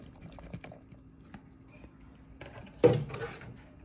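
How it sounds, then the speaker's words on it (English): Cooked black beans tip into a crock pot at about 2.8 seconds as a single soft, wet plop and slosh, which then settles. Before that there are only quiet kitchen sounds. "we're gonna add in those black beans that we made earlier"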